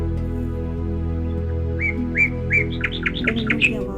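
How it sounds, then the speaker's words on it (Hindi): Birds chirp and twitter in a quick run of short bright calls that grow busier toward the end, sounding close over a steady low drone. "परिंदों की आवाज़"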